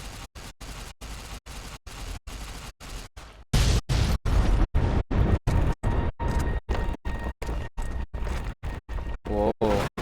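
A warhead blows up in Fallout: New Vegas, a loud, deep explosive boom with a broad burst of noise that rumbles on, broken into rapid stuttering pulses, with no talking.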